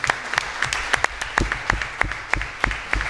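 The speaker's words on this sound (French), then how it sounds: "On peut l'applaudir déjà." A small audience at a medical congress claps, loose and uneven, with individual hand claps standing out in a brief round of applause.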